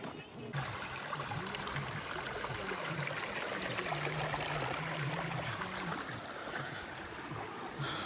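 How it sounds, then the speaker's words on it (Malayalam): A small waterfall on the Naneghat route in the monsoon, a steady rushing, splashing flow heard close and constant, with a low engine-like drone underneath. "ചെറിയ വെള്ളച്ചാട്ടത്തിൻ്റെ സൗണ്ട്, നല്ല പീസ്ഫുൾ."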